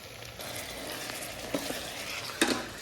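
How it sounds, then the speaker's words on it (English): Ground turkey sizzles quietly in a pan while being broken up with a meat smasher, with a continuous soft fry and a couple of brief scraping clicks. "He's using Mom's ground beef smasher to bust up this ground turkey"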